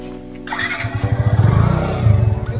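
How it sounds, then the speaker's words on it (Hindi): Motorcycles pulling into a bike parking area at a water park in Pandeypur, Varanasi, with one engine starting nearby and settling into a loud, pulsing putter, a second engine's rumble underneath. "यहाँ पे लोग यहाँ पे आ चुके हैं और अपना बाइक पार्किंग कर रहे हैं यहाँ पे"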